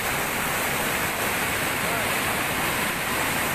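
A stream flows beside a newly built road, a loud steady rushing wash of water, broad and unbroken, with a voice faintly present underneath.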